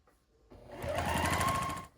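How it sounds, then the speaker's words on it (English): A sewing machine runs in one short, fast burst of about a second and a quarter as it stitches a fabric rectangle onto a quilt block, the whirring stitch close and clear. "we're going to sew one of them onto a side of the diamond in the square"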